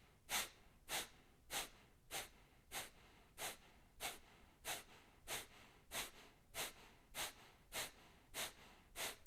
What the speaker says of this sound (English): Now inhale to about half your capacity and forceful exhale.